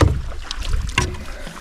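Canoe paddling on a calm lake in the Boundary Waters, with soft paddle strokes and water swishes close by over a low rumble of wind noise, no voices.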